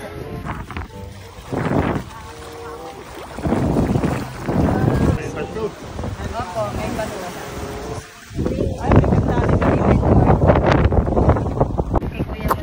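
Wind buffets the microphone while a small motorboat's engine drones at sea, with people talking over the noise.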